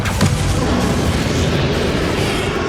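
A Confringo spell explosion in Hogwarts Legacy: a single loud, close boom with a rushing blast that rumbles steadily for a couple of seconds, no talk.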